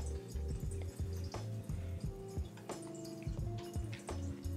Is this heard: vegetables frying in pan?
no